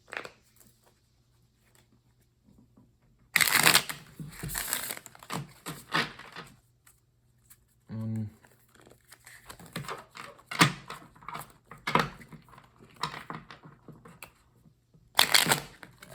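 Tarot cards are shuffled in a few quick riffling bursts, crisp rapid flutters separated by quiet pauses and light handling noise.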